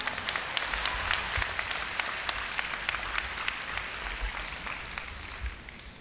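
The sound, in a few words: audience applause welcoming the university president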